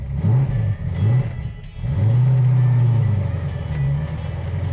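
Restored 1972 Dodge Charger with a rebuilt engine, heard from inside while driving: a loud, close V8 rumble rising and falling through several revs, with a brief dip in the middle before a long sustained pull.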